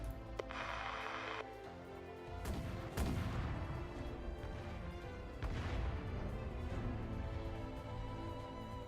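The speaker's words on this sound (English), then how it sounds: "The cannon fire is drawing closer." Deep booming blasts of cannon fire in the video game Arknights rumble in the distance over a steady background drone, a few heavy thuds spaced seconds apart.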